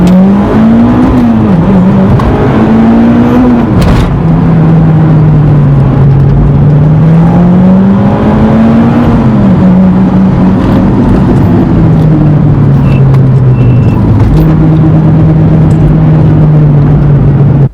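An E85-tuned Mitsubishi Evo X turbo car drives with a loud, close engine drone that rises and falls as the revs climb and drop, with a brief shift dip and a steady cruising hum throughout.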